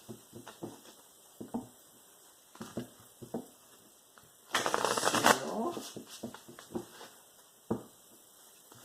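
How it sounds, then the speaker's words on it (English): Tarot cards tapped and shuffled in short bursts, then one longer riffle shuffle up close, with quiet pauses between. "Okay, we're going to do 3 shuffles here"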